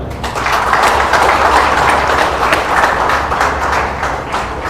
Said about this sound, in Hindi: आपके लिए न्यूट कोर्ट का उद्घाटन करने के लिए जोरदार तालियां हो